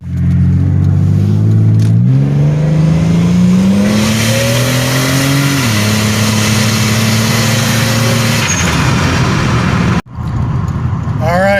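A 1999 Buick Regal GS with an upgraded 58mm turbo revs hard and loud up close, its engine note climbing steadily, holding, dropping, then climbing again before cutting off briefly near the end.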